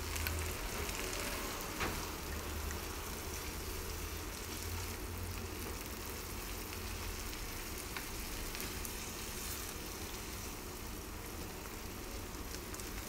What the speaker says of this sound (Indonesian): Ini dimasak sampai airnya berkurang.